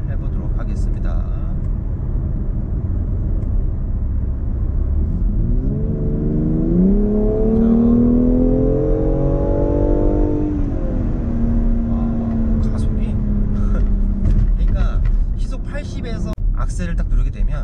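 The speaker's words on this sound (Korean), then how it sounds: "이쯤에서 다시 배기 플랫을 열고 한번 스포츠 모드로 다시 한번 주행을 해보도록 하겠습니다." BMW X3 M in sport mode with the exhaust flap open, accelerating hard: a rising engine note climbs through several seconds and then settles into a steady cruise drone, heard from inside the cabin over constant road rumble.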